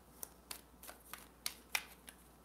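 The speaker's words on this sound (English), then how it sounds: "One more shuffle, and then we're good." Tarot cards are shuffled quietly, a series of soft crisp riffles and taps at an uneven rhythm, close up in a quiet room.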